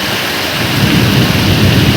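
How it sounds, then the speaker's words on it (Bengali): Loud, heavy rain pours down steadily while deep thunder rumbles underneath, close and continuous, with no voices. "এই দেখো কী হারে বৃষ্টি হচ্ছে"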